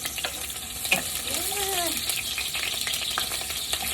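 Chopped onions frying in a pan for an udon and sardine dish, giving a steady, close sizzle with stirring scrapes and occasional pops, no talking.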